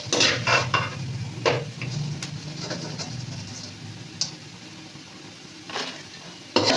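Ginger frying in oil in a pan while being stirred, a steady close sizzle broken by scattered scraping strokes of the spoon, with faint bird calls in the background.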